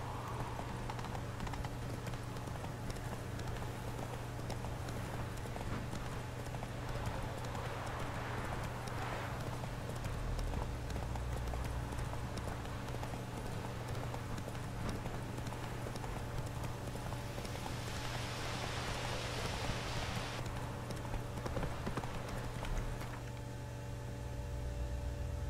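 A horse gallops in the video game The Witcher 3, its rhythmic hoof clip-clops running steadily throughout under a constant background hum, moderately loud and close.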